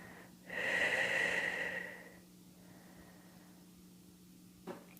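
A deep, drawn-out breath during a stretching exercise, a close airy exhale lasting over a second, then quiet with a faint click near the end.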